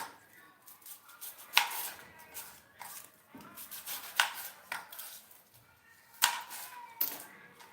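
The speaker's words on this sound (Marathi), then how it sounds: "कांदा हा चॉप करून घेऊया" Onion is chopped finely on a board for Punjabi-style dal tadka, with a steady run of close, crisp knife taps at uneven pace and occasional louder knocks, no talking over it.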